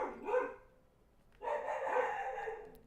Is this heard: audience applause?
no